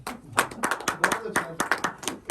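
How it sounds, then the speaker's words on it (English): A few people clapping in an informal group setting, sharp separate hand claps in a loose uneven rhythm, close and clear, with some voices mixed in. "Clap for him."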